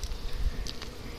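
A honeybee buzzes close by at a backyard beehive during a summer inspection, a steady insect drone over low rumbling background noise.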